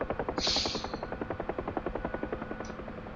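A Huey helicopter in a flight simulator game climbing at reduced speed, its steady rotor thump pulsing rapidly and evenly throughout, with a brief higher whine near the start.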